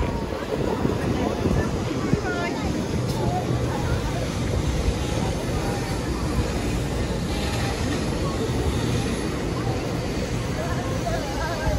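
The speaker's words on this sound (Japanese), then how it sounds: "回送の正体はドクターイエローでした。" Doctor Yellow, the yellow Shinkansen track-inspection train, rumbles past as a steady, broad rush that holds for about twelve seconds, with voices talking over it.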